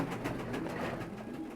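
Pigeons coo steadily in a loft, with soft, low, repeated throaty calls that continue without a break, close and moderately loud.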